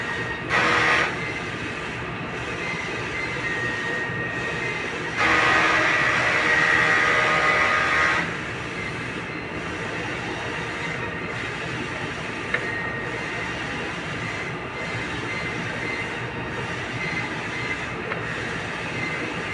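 A Sauyo Smart 6ft four-head sublimation printer runs a head-clean cycle, a steady mechanical whir and hum close by with two louder bursts of pumping and rattling partway through, no talking.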